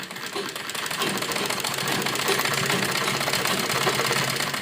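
Sewing machine running a continuous pressed seam along the strip on a pleated frock, a steady, fast, close mechanical rattle that carries on evenly without pause.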